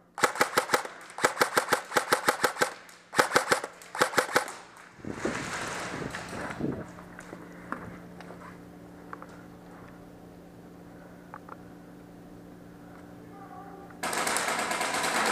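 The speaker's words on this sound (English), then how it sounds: "he's shooting through the hole in the tower" Rapid bursts of toy-style gunfire shot through a hole in a tower in an indoor combat arena during a team deathmatch, sharp clustered cracks at the start, then quieter room noise with occasional pops and talking.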